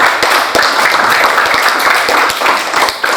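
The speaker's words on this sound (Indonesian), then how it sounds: "Tepuk tangannya untuk kelompok Dela." A classroom applauds a student group with quick, crisp claps from many hands, loud and close, continuing steadily throughout.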